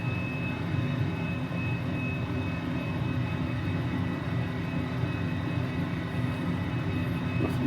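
A helicopter in Microsoft Flight Simulator drones steadily with a low, even engine and rotor rumble plus a faint high whine, continuous and unchanging throughout.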